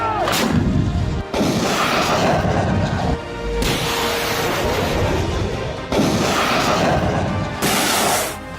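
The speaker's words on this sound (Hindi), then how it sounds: "समंदर पर दागे जा रहे इन गोलों की आवाज" Heavy artillery shells fired during an Indo-US military exercise at the Mahajan firing range in the Bikaner desert, loud sustained booming blasts with rolling rumble and crashes, several distinct bursts over continuous roar, no talking.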